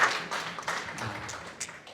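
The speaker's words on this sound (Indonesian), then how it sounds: "tepuk tangan dulu untuk Tuhan" An audience at a pastors' and entrepreneurs' seminar breaks into applause, a dense, steady patter of hand claps that holds at an even level for about two seconds.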